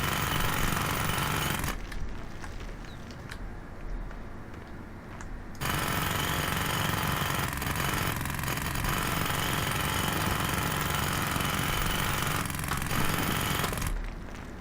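Jackhammer hammering concrete in the demolition game Demolition Company Gold, a loud, continuous rapid pounding that drops away briefly near the start and then runs steadily to the end.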